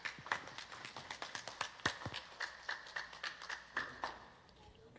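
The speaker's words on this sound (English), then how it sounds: "So give him a big round of applause." Scattered clapping from a small church congregation welcoming a speaker at a Sunday service, a few distinct claps at a time, faint and fading out toward the end.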